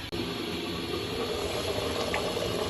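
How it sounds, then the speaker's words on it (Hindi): Water boils in a covered pot for biryani rice, giving a steady low bubbling rumble and hiss, close and continuous after a faint click at the start, with no talking. "पानी को जोश आ जाए।"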